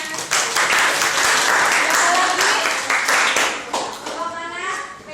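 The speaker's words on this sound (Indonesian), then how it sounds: "Ya, bagus sekali, tepuk tangannya" Applause from a class of high school students at a Jakarta senior high school, a dense crackle of many hands clapping steadily close by for several seconds, fading slightly near the end with faint voices mixed in.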